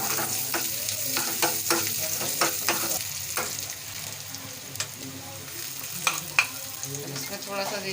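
Dal tempering with ginger sizzles steadily in a pan for dhaba-style mash ki daal, with a spoon scraping and stirring in a series of sharp clicks over the continuous close hiss.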